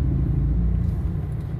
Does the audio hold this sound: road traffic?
yes